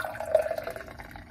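Mtn Dew Voodew III soda (2021 release) pours from a chilled can into a glass, giving a brief, soft liquid splash and fizz, fairly quiet and heard alone.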